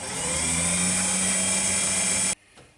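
Abrasive paper whirs steadily against the spinning inside of a yew bowl on a woodturning lathe, a loud continuous hiss that cuts off abruptly near the end, leaving quieter motor hum.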